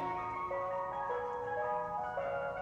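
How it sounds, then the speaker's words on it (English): An ice cream truck's jingle plays steadily as a tinkling, looping melody with sustained tonal notes over background ambience, continuous throughout. "It was an ice cream truck."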